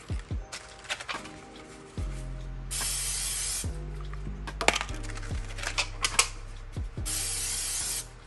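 Cooking spray hissing from an aerosol can onto an inexpensive baking tin for baked macaroni and cheese, two bright sustained bursts of a second or so each, close and clear amid light kitchen clatter and thumps.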